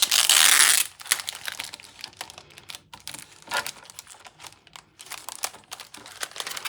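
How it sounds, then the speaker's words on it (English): A paint stencil is pulled out of its plastic package: a loud burst of crinkling for the first second, then scattered crackles and rustles of the plastic bag, close and alone. "let's get this stencil out of the package"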